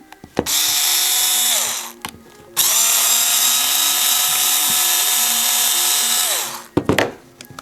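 A power tool whirs loudly in two sustained high-pitched bursts during disassembly of a Procraft PWA216 cordless brushless angle grinder, with a few clicks and knocks before, between and after the runs.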